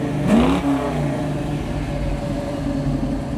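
A 1970 Chevrolet Camaro in hugger orange with a 4-speed manual revs, a quick rising engine swell early on that settles into a steady, throaty idle, close and fairly loud with no voices.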